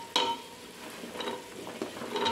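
Mixed vegetables dropped into a hot pan and stirred for a Karnataka-style sambar, giving soft sizzling with a few scraping stirs and clatters of a spoon against the pan, close and moderately quiet.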